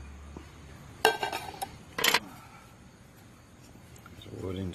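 A small camping cookware pot with fold-in handles handled briefly, giving two short clusters of metallic clinks and rattles against a quiet background.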